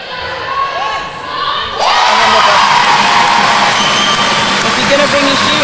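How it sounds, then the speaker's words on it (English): A home crowd at a Europe Netball Open Challenge match, Isle of Man versus Gibraltar, bursts into loud sustained cheering and whooping that fills the arena after a quieter opening. "The home crowd like that"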